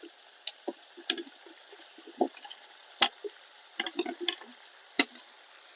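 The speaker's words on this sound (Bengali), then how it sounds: "এবারে কেটে রাখা নতুন আলু দিয়ে দিচ্ছি।" Cut new potatoes dropped into a wok of frying desi chicken curry with skin, producing scattered clicks, taps and soft sizzling bursts, spaced irregularly and fairly close over quiet background.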